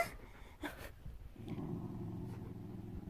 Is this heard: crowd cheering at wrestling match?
no